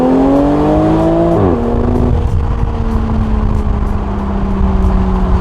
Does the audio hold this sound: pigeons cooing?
no